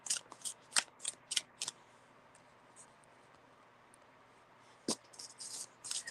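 Playing cards shuffled by hand in a quiet room, a quick run of crisp riffling snaps followed by a pause, then another short burst of shuffling.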